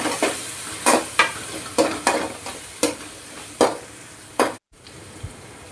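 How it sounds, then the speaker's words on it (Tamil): Ginger garlic paste frying in a pan, a steady hiss broken by regular scraping stirs about every half second to second, then a brief pause before the sizzle resumes. "அடி பிடிக்காமல் கிளறி விடுங்க."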